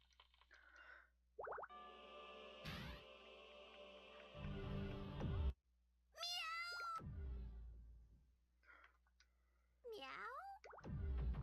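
Taokaka, the cat ninja character in the BlazBlue Calamity Trigger video game, lets out several high, sliding voiced meows imitating a cat, mixed with cartoonish plops, boings and other game effects between bursts of character dialogue.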